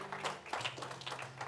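Applause breaking out from a church congregation during a sermon, a dense patter of clapping hands held at a steady level through the clip, with no voice over it.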